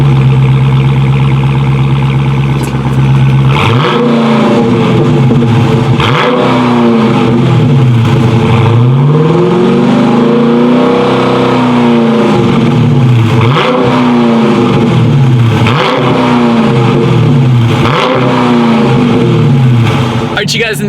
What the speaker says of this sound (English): the sound on the Charger Scat Pack is insane.